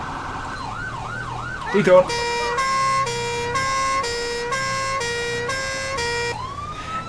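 Two-tone emergency siren from the Siren Mastery mod in GTA V, preceded by a brief rising-falling wail, then alternating high and low tones in a steady regular rhythm, loud and close, with a short spoken word near the start.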